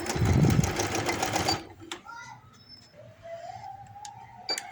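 A sewing machine runs in a loud, rapid burst while stitching a baby hoodie's fabric with silk thread, then stops, leaving quieter room sounds and someone speaking.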